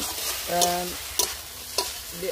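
Banana flower and potato coated with turmeric sizzle in a frying pan while a spatula scrapes through them three or four times, with a short humming squeak early on, close and fairly loud.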